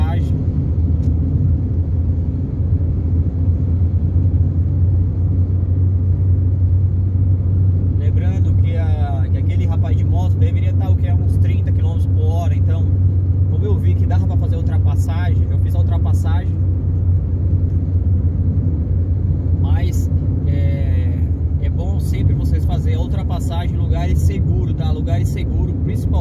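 A car overtaking a motorcycle on a road at about 60 km/h, heard as a steady low engine and road rumble from inside the car while someone talks over it.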